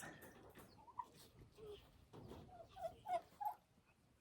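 Baby turkey and adult turkeys in a turkey pen give a few short chirps and calls, near and moderately loud, with soft background noise between them.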